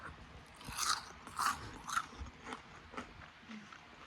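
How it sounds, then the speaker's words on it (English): Crunchy karaage fried chicken coated in cornstarch bitten several times at close range, a handful of sharp crisp crunches then softer chewing, with no talking. "let's do a crunch test so you can hear."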